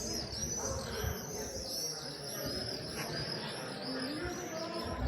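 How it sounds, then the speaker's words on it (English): Birds chirp and tweet steadily in the open air over the Spanish village of Albarracín, several calling at once at moderate distance over a low outdoor rumble. "Lots of birds flying around."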